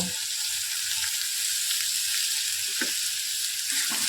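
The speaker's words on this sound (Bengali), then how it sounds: "পেঁয়াজটা একটু ভাজা ভাজা হোক" Steady, bright sizzling of chopped onion frying in hot oil, continuous and close, with a few soft stirring knocks underneath.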